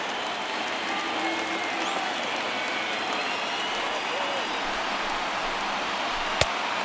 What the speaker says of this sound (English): Now this small but vocal crowd come to their feet.